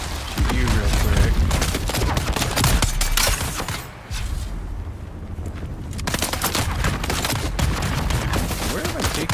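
Gunfire rattles in the Dune Awakening video game, dense bursts of shots and impacts almost throughout, with a short lull in the middle before the firing resumes loudly.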